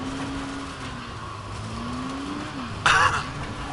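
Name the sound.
car driving in video game Dying Light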